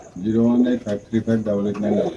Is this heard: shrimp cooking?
no